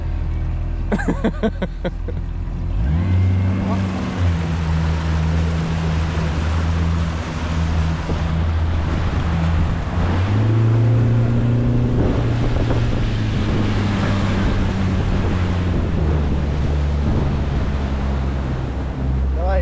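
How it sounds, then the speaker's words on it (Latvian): A 15 horsepower outboard motor on a fishing boat starts after a few seconds, then drones steadily with a shift in pitch partway through, heard under wind buffeting and water noise. "Kristap, tas ir 15 zirgu motorīts."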